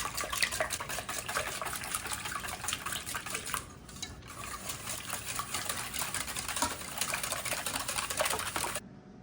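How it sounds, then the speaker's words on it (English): A whisk rattles quickly and steadily against a bowl, mixing a coated meat mixture in a homestead kitchen, a fairly soft, continuous clicking with a brief pause midway. "I'm just going to whisk this up really good"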